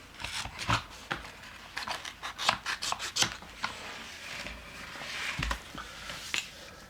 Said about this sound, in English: I'm going to cut it right at the end here.